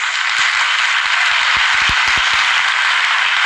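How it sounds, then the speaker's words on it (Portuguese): Applause for a priest at a Catholic gathering, a steady dense wash of clapping from a crowd that holds at an even level for the whole stretch with no talk over it. "Dar uma salva de palmas especial para ele."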